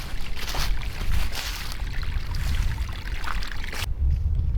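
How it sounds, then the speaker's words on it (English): A small creek flowing beside a camping spot, giving a steady broadband rush and gurgle of water, close and continuous, with a brief drop in the highs near the end. "You gotta walk across this little creek here."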